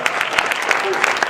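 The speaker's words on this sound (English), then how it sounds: "Let's have a round of applause for Scott Atkins." Audience at a live drumming event claps for a drummer in a short, close burst of dense clapping, with a voice briefly heard over it.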